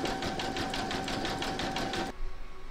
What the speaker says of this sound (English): Pop your hoop into your machine and stitch round number 11, and that's going to zigzag these along this join to join them.